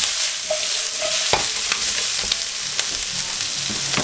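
Onions frying in a pan on lowered heat, a steady broadband sizzle with scattered scraping stirs and small pops, moderately loud with no voices.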